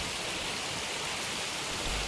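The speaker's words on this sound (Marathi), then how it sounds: "तिथं पाऊस पडल्यामुळे खूप सारं पाणी पण वाहत होतं, बघा कशा प्रकारे वाहत होतं" Water rushes steadily along a forest stream beside a temple after rain, a continuous soft broadband hiss with no voices.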